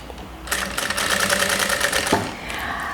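A sewing machine stitches bias binding in one fast, even burst of close mechanical clatter lasting about a second and a half. It stops abruptly, then a quieter hum follows. No one speaks.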